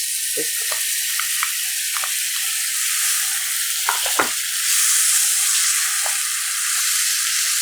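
Radish kimchi sizzles loudly and steadily in a hot pan for Korean fried rice, with several short scraping stirs of a utensil breaking through the frying hiss.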